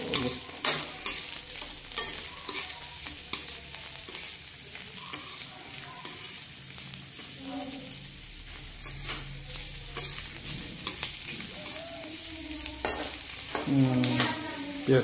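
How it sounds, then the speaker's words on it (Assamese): Onion frying in hot oil for a simple pork curry, stirred steadily in the pan: a continuous close sizzle broken by scraping and clattering stir strokes, with no talking. "তেল গৰম হৈ গ'ল তো পিয়াজটো অকণ ফ্ৰাই কৰি লওঁ এতিয়া পিয়াজটো ফ্ৰাই কৰি লৈছোঁ"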